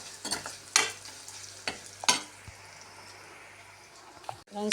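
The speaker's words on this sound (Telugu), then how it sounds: "కొంచెం ఎర్రగా వేగాలి, ఇంకొంచెం వేగితే తర్వాత దీంట్లో టమాటాలు వేసుకోండి ఫ్రెండ్స్" Ingredients for a chana bada curry frying in a pan, being browned before tomatoes go in; a steady low sizzle with several sharp stirring scrapes and clatters up close, no voices.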